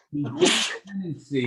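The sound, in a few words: sneeze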